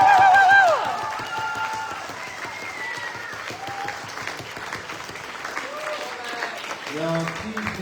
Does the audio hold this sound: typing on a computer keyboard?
no